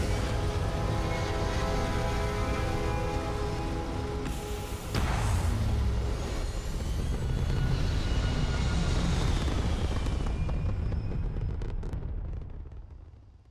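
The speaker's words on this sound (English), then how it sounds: "Gonna take off. Liftoff looks good." A spaceship lifts off in the video game Starfield with a steady, loud rumbling roar and tonal engine hum, a sharp burst of thrust partway through, then a long fade toward near silence.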